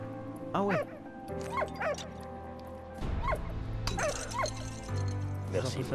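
A dog in the World War I video game Soldats Inconnus gives a run of sharp barks and high yips, repeated in bursts over a steady low hum.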